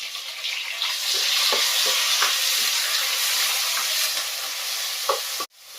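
Loud, continuous sizzling and frying of chopped tomatoes in a pan with occasional stirring scrapes, ending with a sharp clatter.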